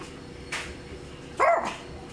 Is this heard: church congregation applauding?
no